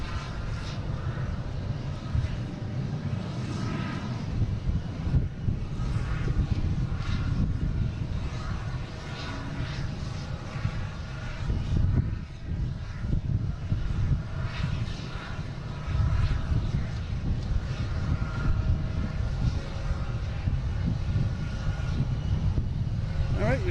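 A JetBlue airliner at Boston Logan International Airport gives off a continuous engine rumble that swells and dips slightly, with people talking over it now and then.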